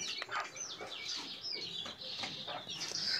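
Adult free-range local desi hens on a family farm give out a near, continuous run of clucking calls, with brief higher squawks and no talking over them.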